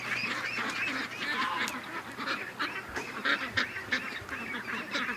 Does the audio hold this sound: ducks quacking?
yes